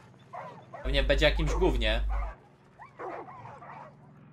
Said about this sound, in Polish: W środku słyszę jakiegoś pieska.